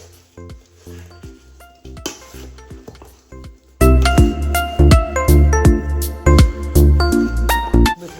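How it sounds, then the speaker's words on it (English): Sweet potatoes for candied yams stirred in a bowl, with repeated clinking and scraping of a utensil against the bowl, softer at first and then much louder and busier. "we'll just give it a stir. Just stir it up. Just get the potatoes well coated."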